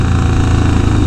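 A Harley-Davidson Sportster or Dyna motorcycle engine rumbles steadily and loudly at close range, a constant low throb with no pauses.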